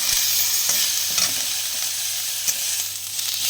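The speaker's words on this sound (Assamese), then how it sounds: "আজি সোমবাৰ তিতা পাত ফ্ৰাই কৰি আছোঁ।" Bitter neem leaves fry in salted oil in a pan, a steady close hiss of sizzling with occasional soft stirring clicks and scrapes, no voices.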